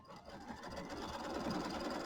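Sewing machine steadily stitching the batting tack-down on a Kimberbell mini quilt, a continuous close mechanical whir alone for about two seconds.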